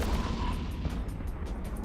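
Ship weapons firing in the space game EVE Online, a dense continuous barrage of booming gunfire and artillery-like blasts running the whole time with no break, loud and close.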